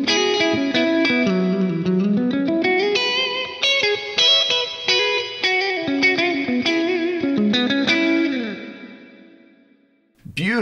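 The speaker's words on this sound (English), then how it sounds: "we've got the Opera House reverb, which is a new type and sounds particularly lush at stock settings" A string of melodic instrument notes rings through a lush Opera House reverb at stock settings, each note blooming into a wide, shimmering wash, then a long tail fades out near the end before a brief new sound cuts in.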